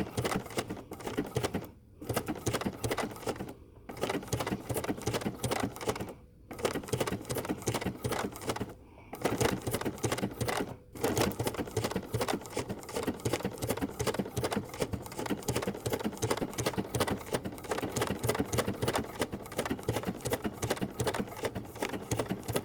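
A sewing machine stitches wool appliqué in steady, loud, continuous running bursts, broken by a few brief pauses between stitching runs, with no voices.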